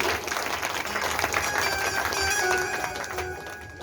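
Audience clapping in unison at a religious Bhagavat katha discourse, a steady dense wash of applause lasting the whole moment at moderate loudness.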